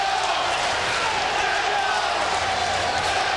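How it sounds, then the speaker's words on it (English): Ringside crowd at the 1998 Lennox Lewis vs Željko Mavrović boxing match chanting for Mavrović, a steady, dense wash of massed voices filling the arena with no pauses. "the crowd at ringside chanting"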